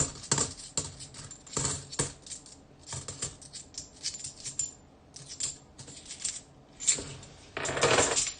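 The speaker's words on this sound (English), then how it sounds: "Man, it feels good to be unwrapping halves. Just the sound." Rolls of half-dollar coins being unwrapped, the coins clinking and jingling in irregular bright bursts close by, with paper rustling between handfuls and quiet pauses.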